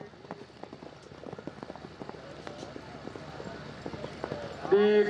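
Horses galloping at a neza bazi tent pegging fair in Dhab Pari, Chakwal, with a steady run of hoofbeats under crowd noise and outdoor bustle, then a loud tonal burst near the end.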